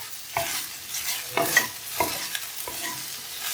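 Okra (bhindi) stir-fried in a pan for a bhindi masala, with a steady oil sizzle and repeated scraping stirs of a spatula, several distinct strokes close by and no talking.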